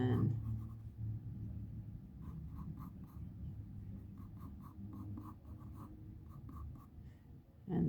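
A pen scratching across paper while sketching a fantasy comic page, soft close strokes and short taps, fairly faint and unaccompanied by speech.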